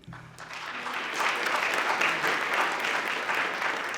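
Applause rises from the crowd at a press conference opening the Hilltop Early Learning Center, a dense, even wash of clapping that swells after a moment and holds steady.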